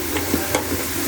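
Turmeric frying in oil makes a soft, steady sizzle up close, with a few faint stirring scrapes and a louder knock at the very end, and no talking.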